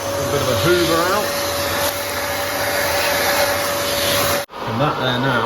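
A vacuum cleaner hoovers debris out of freshly drilled holes, a loud steady roar with a whistling whine, while someone talks over it; the motor cuts briefly near the end before resuming.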